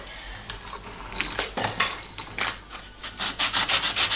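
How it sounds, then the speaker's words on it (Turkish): Scratchy back-and-forth rubbing of sandpaper on wood, close up, in uneven strokes that grow quicker and louder toward the end. "burayı bir zımparalama gerekiyor"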